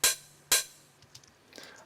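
Processed hi-hats shaped with EQ and reverb: two crisp, bright hits half a second apart with short airy tails, followed by softer, fainter ticks.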